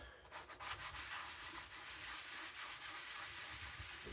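Steady scratchy rubbing of a diamond sharpening plate being flattened on 120 grit wet and dry sandpaper, close and continuous, with rhythmic back-and-forth strokes and no talking.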